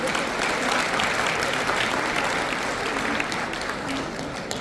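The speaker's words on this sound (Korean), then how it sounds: "박수 부탁합니다." Loud, sustained applause from a crowd at a year-end gala in a hotel ballroom, welcoming a guest being introduced, steady clapping throughout with no pauses.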